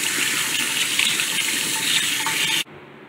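Water runs from a tap in a steady, loud hiss while a tarantula's water dish is rinsed, then cuts off abruptly near the end, leaving quiet room noise.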